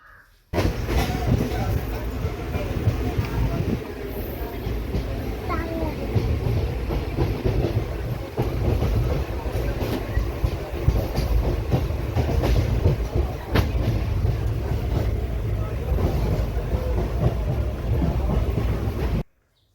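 A train at Cherthala railway station in Kerala rumbles steadily with rhythmic clickety-clack of wheels on rails for nearly twenty seconds, loud and close, with faint voices mixed in.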